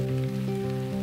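Steady rain patters on a surface during an Appalachian Trail thru-hike, a continuous even hiss with no talking over it.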